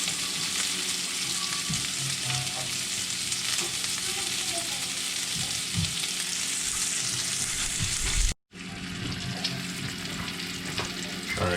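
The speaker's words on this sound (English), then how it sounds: "we've rendered some of the fat out of the sausage now and got a little brown on it" Sausage fries in a pan beside grits, a steady loud sizzle running on and off with stirring, with one brief cut to silence partway through.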